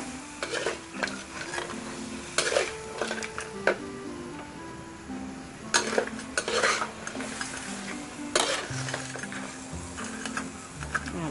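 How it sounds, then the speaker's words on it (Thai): Crab being stir-fried with curry powder and a splash of water in a pan, with scraping and clattering of a utensil against the pan over a soft sizzle, irregular and close. "ผัดปูก่อนให้สุกนะคะ"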